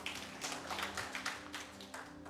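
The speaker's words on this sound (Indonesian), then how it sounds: "Berikan tepuk tangan sekali lagi buat Tuhan" Congregation clapping in church, a short burst of scattered, fairly faint applause with overlapping hand claps.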